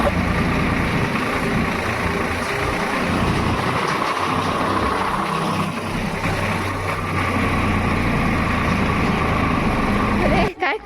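A tractor engine idles nearby with a steady, low, throbbing rumble that runs almost unbroken before cutting off abruptly near the end; voices may be faintly present beneath it.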